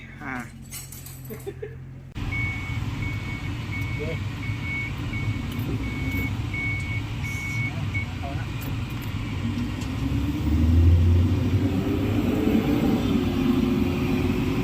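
An Isuzu Trooper on a test drive after a low-power fix, with a steady engine and road drone inside the cabin that swells briefly near the end, following a short burst of handling noise at the start.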